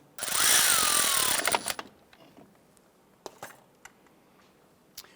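A power tool whirs loudly for about a second and a half, tightening a brake hose onto the caliper of a 2012-2017 Toyota Camry. A few faint metallic clicks and taps follow in a quiet garage.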